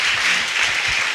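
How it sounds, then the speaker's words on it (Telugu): A congregation clapping loudly in praise at a church gathering, a brief, dense burst of hand claps at steady volume. "గట్టిగా చప్పట్లు కొడుతూ దేవుని స్తుతించుదాం."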